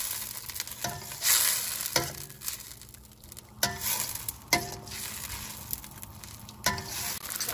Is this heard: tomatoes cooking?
yes